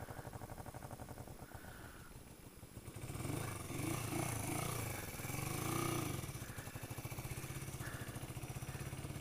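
Engine of a 1980 Yamaha XS400 Special II motorcycle idling while warming up, a steady close throb that swells and rises in revs midway before settling back to an even idle.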